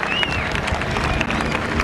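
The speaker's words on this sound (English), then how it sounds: "how about a big round of applause for Leo, the Looper Laudenschlager" Spectators at the 1986 Daytona Beach Skyfest air show applaud in a dense, steady wash of clapping that holds at an even level from start to finish, with a faint thin whistle-like tone drifting above it.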